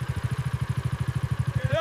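A lone motorcycle engine chugging close by, its rapid, even low thump pulsing steadily as the bike rolls up, with a voice starting to speak at the end.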